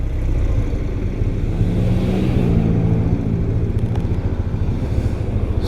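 A 1993 BMW R100GS motorcycle engine pulls away in first gear, a low, steady rumbling drone close by that swells slightly as it moves off, loud and continuous throughout.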